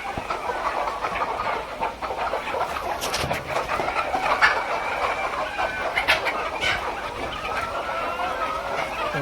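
Hens cluck intermittently in a poultry shed during heavy rain, their calls fairly faint over a steady, dense wash of rainfall noise throughout.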